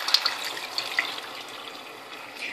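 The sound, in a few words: lentil boiling water poured into cooking chicken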